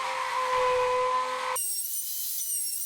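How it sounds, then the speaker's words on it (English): Router on a sled flattening a walnut slab, a loud, steady high whine with cutting noise that stops sharply partway through, leaving only a faint high tone. "I'm using my router sled to flatten the slab"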